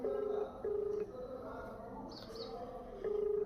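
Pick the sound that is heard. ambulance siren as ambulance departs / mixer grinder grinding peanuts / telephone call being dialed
telephone call being dialed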